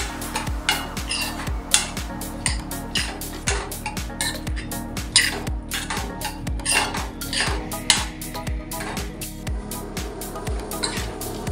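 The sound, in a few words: stirring prawn rice masala in a pot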